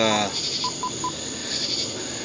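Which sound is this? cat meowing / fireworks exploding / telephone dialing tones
telephone dialing tones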